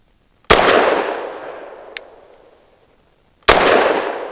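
Two sharp, loud pistol shots from a Walther PDP F Pro firing 115 grain SIG V-Crown rounds, spaced about three seconds apart, each with a long reverberant decay and a faint metallic click between them.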